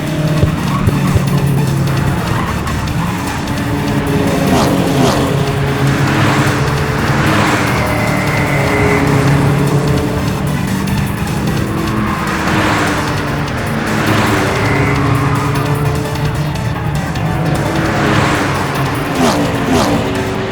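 Race cars speed around the track during a car race, a steady roar of engines with tire skids and squeals that swell and fade repeatedly over a dense, continuous background.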